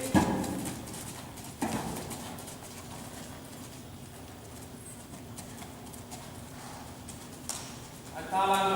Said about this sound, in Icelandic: Og byrja á feti.